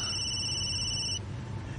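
A cellphone rings with a steady electronic tone, loud and close, then cuts off abruptly partway through over a low background hum.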